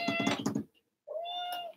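A hungry cat meowing indoors, one rapid stuttering meow and then a longer drawn-out meow after a short pause, soft and close with no talking.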